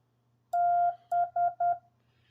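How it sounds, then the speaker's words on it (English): Morse code letter B sent as clean electronic tones: one long beep followed by three short beeps in quick succession, loud and alone against a faint background hum. "The letter B is da, did, did, did."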